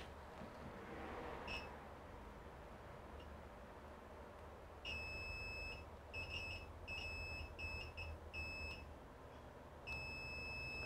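A multimeter in continuity mode beeps while a MacBook Pro A1708 with a no-power fault is probed. The tones are short and intermittent at first, then turn into longer steady beeps over a faint background hum.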